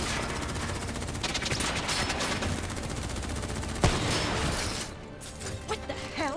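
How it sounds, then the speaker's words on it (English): Rapid gunfire in a Call of Duty: Black Ops 3 campaign firefight, loud and dense bursts crackling continuously with a sharp crack near the middle, then tapering into scattered shots and voices near the end. "Who's shooting?"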